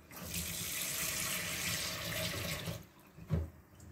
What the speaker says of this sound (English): Okay, so I'm going to add water.